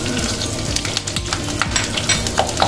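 Dried red and green chillies frying in hot oil in a pan while being stirred, a dense continuous sizzle with scraping spoon strokes and small clinks, loud and close.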